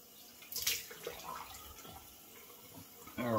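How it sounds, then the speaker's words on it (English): Cold water runs from a sink tap in a bathroom during a shave, a soft steady splash that swells briefly and then rises again near the end, fairly quiet and with no talk. "So turn the cold water on and I'll be right back here."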